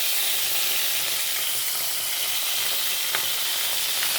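Garlic and onion sautéing in a pan in a thatched-roof home kitchen, a loud, dense, unbroken sizzle from start to finish with no voices.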